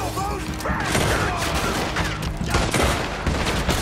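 Repeater rifle fire in the video game Red Dead Redemption 2, loud and dense, with rapid overlapping shots and booms filling the whole stretch amid a chaotic firefight.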